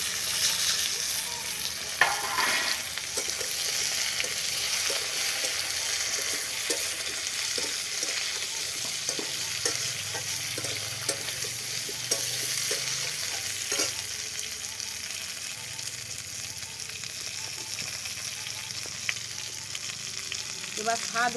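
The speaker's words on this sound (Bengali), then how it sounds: "এবার আমি ভাজা সবজিগুলো দিয়ে দেবো" Fried mixed vegetables and green chili sizzle steadily in a pan, with a loud continuous hiss and repeated scraping stirs throughout.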